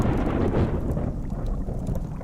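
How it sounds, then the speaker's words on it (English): Thunder rumbles as a sound effect in a dramatized reading of Macbeth, set at a witches' bubbling pot: a loud, broad low rumble that swells early and then rolls on steadily, with no voices over it. "Suddenly there was the noise of thunder."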